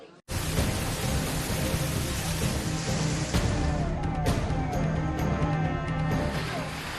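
Heavy downpour roars steadily during a city cloudburst, dense and loud throughout, with a sharp thunder crack midway and rumbling undertones beneath the rain.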